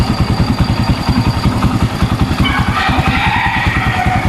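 A Barako motorcycle with hard starting, run on choke, chugs loudly and close in a fast, regular thumping idle just after starting, its engine pulses steady and uneven in tone with no talk over it.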